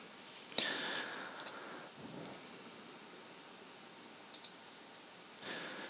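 A few soft, isolated computer mouse clicks, one near the start and a quick double click later, set against a quiet room hiss.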